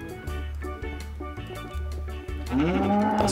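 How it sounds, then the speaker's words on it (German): Cows mooing in the video game Minecraft, several low drawn-out bovine calls in a row with a rising, louder moo at the end, heard alone without talk. "Mein Haus wird belagert von Kühen."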